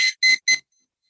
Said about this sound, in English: If I'm making a hot drink, for example, though, again it starts beeping.